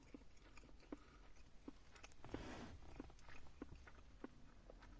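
Someone chewing a steak and potato pie close to the mic: soft, regular wet chews and small clicks repeating about once a second, very quiet, with no talking.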